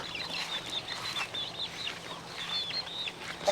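Chickens cluck and chatter inside a truck converted into a chicken coop, several birds making overlapping soft, fairly close calls over a low steady background hum.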